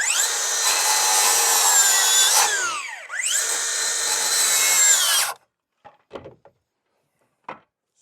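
A power drill drives screws into the wood of an off-grid cabin under construction, whining loudly and continuously with a brief dip partway through. It stops abruptly, leaving a few scattered clicks and taps.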